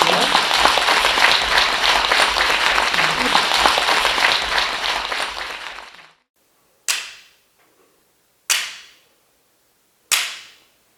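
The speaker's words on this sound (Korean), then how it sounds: "큰 박수로 맞이해 주십시오" Audience at a Korean Buddhist Seon lecture breaking into big applause, dense clapping for about six seconds that fades out, followed by three sharp isolated claps or knocks in the quiet.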